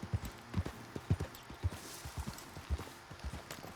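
Horse hooves clip-clop in steady, close rhythm as a rider travels through Red Dead Online, the game's hoofbeats clear and moderately loud with no talking over them.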